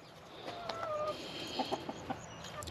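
Several baby chicks, about four and a half weeks old, and a rooster cluck softly in a backyard flock, with short scattered calls and faint peeps over a steady outdoor hiss.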